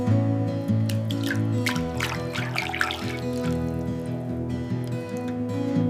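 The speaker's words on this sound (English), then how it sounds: "Adding the sweet vegetables." Vegetables dropped into a pot of water for a vegan Hue-style noodle soup broth, giving a cluster of wet splashes and drips near the start, then quieter trickling over a steady low hum.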